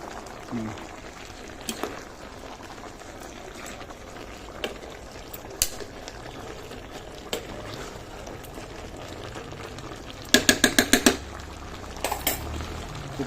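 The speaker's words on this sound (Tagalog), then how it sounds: "kumukulo na rin ng sabaw niya mga ka-safety" Coconut milk broth with jackfruit bubbling in a pot, a steady low simmering wash broken by a few sharp clinks of a utensil against the pot, with a quick burst of rapid clatters near the end.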